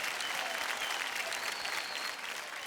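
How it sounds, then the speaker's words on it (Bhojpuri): Steady, loud applause from a large audience, a dense wash of clapping that carries on evenly before easing slightly at the end. "जोरदार तालियां हमारे दोनों सुपरस्टार्स के लिए।"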